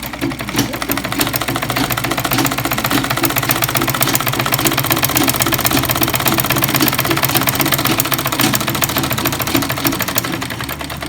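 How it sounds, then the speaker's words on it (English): Sewing machine stitching fabric, a loud, steady rapid mechanical chatter that runs continuously with a low motor hum underneath. "After putting the material you want to sew, then you put it down. Then you can start sewing like this."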